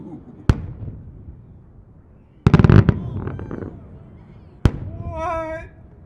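Maltese-style multi-break cylinder fireworks made in the USA fire outdoors in winter with a sharp launch, a burst of rapid crackling reports and then another shot, followed by a short voice.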